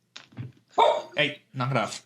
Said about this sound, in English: because that's my dog.